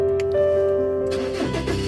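Ford Ranger XLT pickup engine cranking and catching, then settling into a steady near idle, with a brief burst of mechanical noise as it fires.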